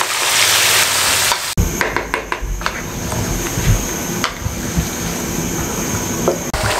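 Chicken masala for Patiala chicken being stir-fried in a pan, with a steady sizzle under repeated scraping and clanking of a spoon against the metal as the mixture is turned.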